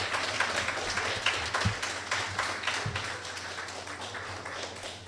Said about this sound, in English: Please receive our brother with a warm round of applause